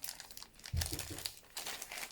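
A sealed plastic bag holding a diamond painting set crinkles and crackles in short, close bursts as it is handled, quiet and with no talking.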